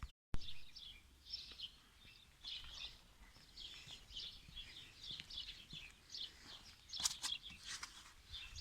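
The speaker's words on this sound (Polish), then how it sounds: "fruwaki śpiewają ładnie ale my jedziemy nad jeziorko" Faint birdsong drifts in from a distance, repeated chirps and short phrases over a quiet outdoor background.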